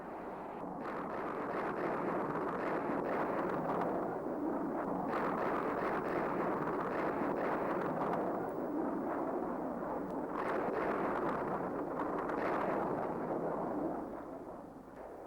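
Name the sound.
B-52 bombing strike explosions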